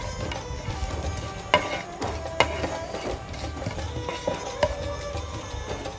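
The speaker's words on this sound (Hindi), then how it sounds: "ये जैसे हमारा मसाला भुन गया है" Fried spice masala and oil in a pan for dhaba-style methi matar malai, a low continuous sizzle with a few distinct spoon taps against the pan.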